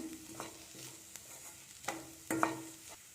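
Chopped mint leaves frying in a cauliflower filling for stuffed chapati, stirred in the pan with a few light scrapes and taps over a soft, low sizzle, close and quiet with no voices.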